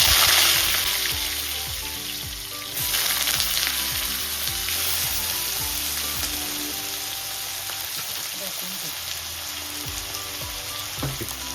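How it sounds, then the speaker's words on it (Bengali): Potatoes hit hot oil already crackling with kalonji and chillies for Bengali aloo posto, bringing a loud, close, steady frying sizzle with a few clinks and stirring knocks and no voices. "এখন আমি এটা মিলে আলু দিয়ে দিলাম।"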